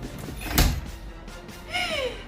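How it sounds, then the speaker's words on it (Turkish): A door being opened nearby with a dull thump and rattle, followed by a brief squeaky creak in a quiet indoor room. "Kapı açıldı."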